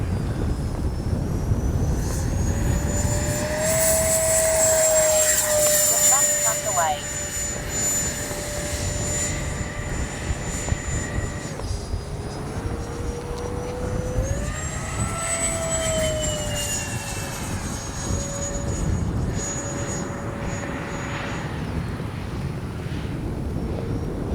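An E-flite Habu XS electric ducted-fan RC jet with an 80 mm fan flies past, its loud, steady whine rising and falling in pitch as it banks and changes throttle, with no talk over it.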